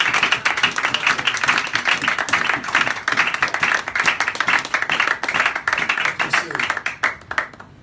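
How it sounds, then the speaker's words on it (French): A church congregation applauding, with dense, steady clapping that continues for several seconds before tapering off, and voices mixed into the applause. "Ah, on acclame le Seigneur."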